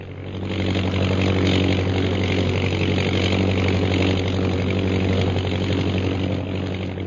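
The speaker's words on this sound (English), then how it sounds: "Cut your motor and they won't hear us." A small airplane's engine drones steadily in flight in a radio drama, a loud, continuous motor hum with an even buzzing tone and no breaks.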